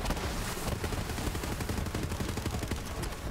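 A rifle fires in Borderlands 3 in rapid, dense bursts, a loud, unbroken stream of shots with battle noise underneath.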